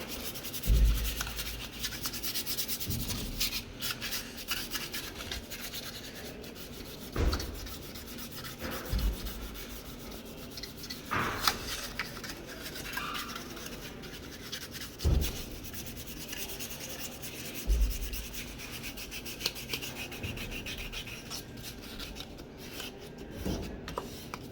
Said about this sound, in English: So I'm gonna sand them down a bit.